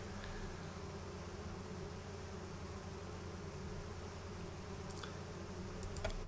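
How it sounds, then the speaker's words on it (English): A swarm of attacking bees in the video game Pathfinder: Wrath of the Righteous, a steady dense insect buzz droning continuously at moderate level, with a few faint clicks near the end and no speech. "now I'm being attacked by a swarm of bees"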